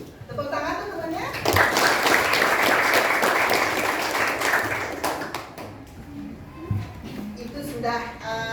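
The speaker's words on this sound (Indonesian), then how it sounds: "Tepuk tangan tuh temannya." Classmates in a school classroom clap their hands in a lively burst lasting several seconds, with children's voices and a teacher talking before and after.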